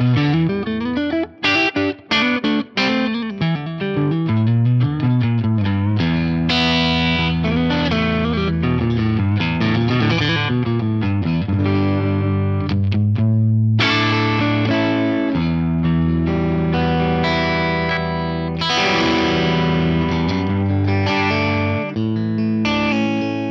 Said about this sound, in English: Let's hear the neck single coil mode of this guitar.